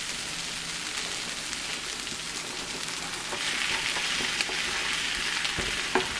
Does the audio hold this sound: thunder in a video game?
no